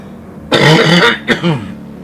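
A couple of harsh, voiced coughs up close, one longer burst followed by a shorter one, with no talking around them.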